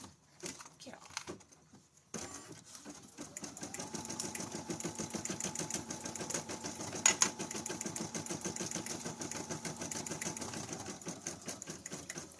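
Felting needle machine stitching rapidly, a quiet, even mechanical patter that starts after a few soft knocks and runs steadily to the end, with a brief louder clack partway through.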